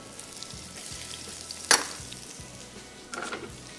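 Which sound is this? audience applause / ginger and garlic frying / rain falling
ginger and garlic frying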